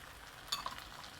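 Mixed vegetables, peas, cauliflower and bell pepper, are stirred in a frying pan, giving a faint low sizzle with a couple of quick utensil clinks against the pan.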